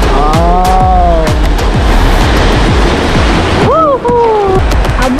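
Strong ocean waves surge and crash in a loud, continuous roar of surf, with a few brief shouts and whoops rising over the water.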